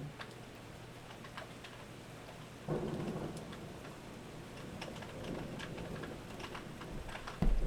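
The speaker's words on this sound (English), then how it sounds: "It's raining, y'all." Steady rain falls throughout with a soft, dense patter, joined by a low rumble of thunder that swells partway through and again near the end, fairly quiet overall.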